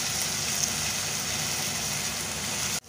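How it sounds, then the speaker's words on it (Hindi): Chopped garlic frying in hot oil for an aloo sabzi gives a steady, rain-like sizzle that holds evenly throughout before cutting off abruptly at the end. "ये चॉप करे हुए लहसुन है जो हम इसमें शामिल कर रहे हैं, तब गोल्डन फ्राई हो जाएंगे।"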